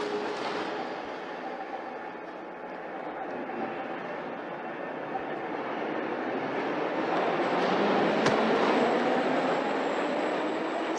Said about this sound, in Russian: Граждане, поезд идет в парк.